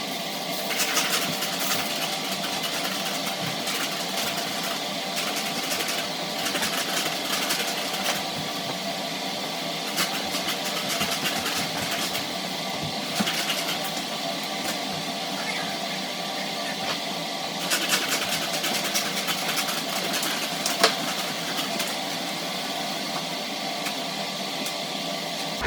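Cold fogging machine treating a house for mold, a steady droning motor hum with a constant hiss of spray that runs evenly for the whole stretch, close and moderately loud with no talk over it.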